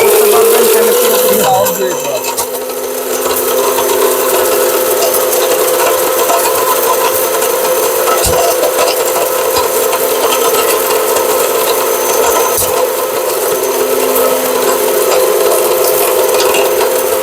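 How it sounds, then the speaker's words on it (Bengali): An 850-watt blender grinds turmeric with a loud, steady motor whine that runs with little change throughout, a brief dip in the pitch near the start, close and dominant. "যারা ছোট ফ্যামিলি, বাজেট কম, তাদের জন্য হচ্ছে 850 ওয়াটের এই ব্লেন্ডারটা।"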